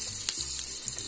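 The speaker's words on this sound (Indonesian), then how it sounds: "jadi ini udah mendidih. Jadi aku mau masukin tehnya." Water on the stove for breakfast tea gives a steady, close hiss and bubbling sizzle throughout, with a few brief splashy bursts and no talk.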